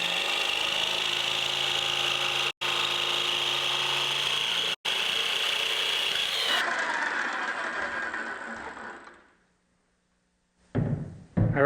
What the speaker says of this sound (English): after about an hour of sanding, going back and forth, finally got this thing fitting good